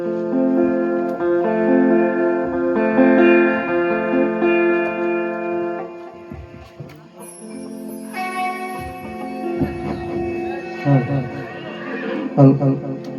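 Horse neighing and whinnying amid a lively outdoor folk gathering, with strong tonal music or singing and voices throughout, and faint hoof clip-clops mixed in.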